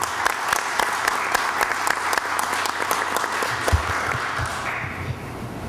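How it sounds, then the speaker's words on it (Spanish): Steady applause from a community citizen security committee meeting audience for the police commander, a room of people clapping continuously at moderate volume before it thins out at the end. "quería pedir un aplauso para él"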